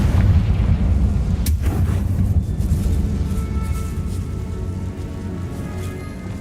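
The Confringo blasting curse explodes in the Hogwarts Legacy video game, a short sharp blast rising out of a steady low rumble that continues and slowly fades afterward, with no speech.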